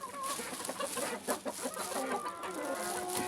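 Chickens cluck softly in a coop on a snowy day, a busy overlapping chatter of short calls at moderate distance over a faint background hiss.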